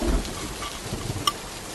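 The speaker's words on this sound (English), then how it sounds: "The rain is really coming down." Heavy rain pours on a wet morning as a steady, dense hiss, with a brief sharp tick near the end and no voices.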